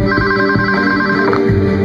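A telephone ringing sound effect for a produced radio spot trills loudly and steadily with a bright electronic tone, layered over a low music bed, with no voices.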